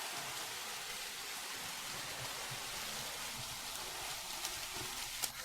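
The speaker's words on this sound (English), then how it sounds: "it's still raining outside." Steady rain falling outside a palace at night, an even hiss of drops hitting surfaces throughout, soft and constant, with a few faint knocks near the end and no voices.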